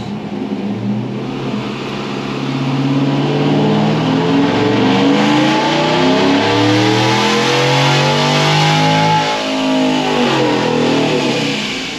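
A Chevrolet Tahoe making about 500 horsepower revs hard through a dyno pull, its engine note climbing steadily in pitch over roughly ten seconds, loud and close, with no talking.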